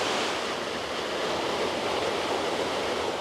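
A waterfall roars in an autumn woodland stream setting, a loud, steady broadband rush of falling water close by, continuous and unbroken with no voices.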